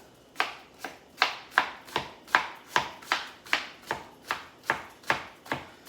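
A knife chops steadily on a cutting board, about a dozen sharp, evenly spaced strikes close up with no talking.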